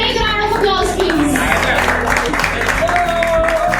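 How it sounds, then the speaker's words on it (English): A crowd claps steadily throughout, with voices and a few children's shouts mixed in and faint music underneath, at a young bartenders' mocktail competition. "Can we give the participants a round through a big round of applause, please?"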